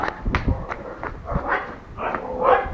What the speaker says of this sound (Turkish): Köpek sesleri eşliğinde